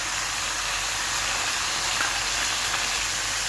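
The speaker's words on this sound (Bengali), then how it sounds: "আমি আলুটাকে অ্যাড করে দিচ্ছি এর মধ্যে।" Steady broadband sizzle of chicken curry frying in a pan with potatoes added, a continuous hissing texture without pauses and no talk.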